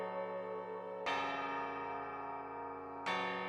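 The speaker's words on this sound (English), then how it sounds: "or even a tubular bells." Tubular bells played in a songwriting app, two bright metallic strikes about two seconds apart, each ringing out with a long shimmering decay, heard alone.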